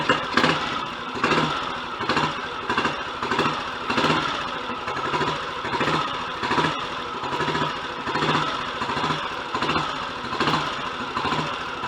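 A Royal Enfield Model G 350 motorcycle engine runs steadily at idle with a close, loud, even beat, its lumpy single-cylinder pulse repeating without any voices.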